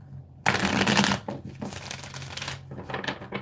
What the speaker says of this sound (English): I'm going to do one more shuffle for you, Mai.